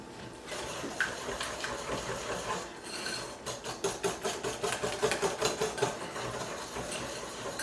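A whisk clicks rapidly and rhythmically against a bowl, mixing olive oil into chocolate chip muffin batter, a quick close-up burst of regular taps after a softer stretch of quiet stirring.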